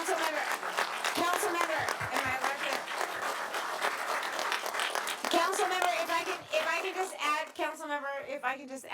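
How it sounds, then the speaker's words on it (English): An audience at a city council meeting applauds for the outgoing Veteran of the Year, a dense wash of clapping that lasts the full stretch while a voice speaks on top of it. "let's give him a huge round of applause as the outgoing Veteran of the Year"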